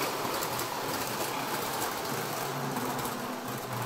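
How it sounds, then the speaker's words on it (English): Small model train cars roll over the tracks of a basement Christmas train garden layout, a steady continuous clatter and whir of the running motor, close and unbroken with no talk. "you just get the sounds of the cars rolling over the tracks and the sound of the motor"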